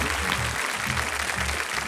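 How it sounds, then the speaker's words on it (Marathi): A crowd at a kirtan programme claps continuously, a fairly soft and even wash of applause heard from a distance. "जोरदार टाळ्या झाल्या पाहिजेत त्यांच्यासाठी."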